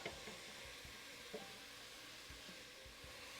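Chopped onions sizzle steadily in a hot pan while cooking down for chili, a soft continuous frying hiss with a few faint stirring knocks, no voices.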